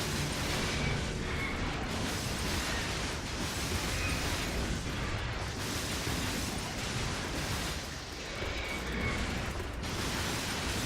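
A rocket explosion slams into a boss in the PS3 game inFamous, followed by a continuous, dense roar of blasts, crackles and rumbling effects that stays loud throughout with no clear pauses.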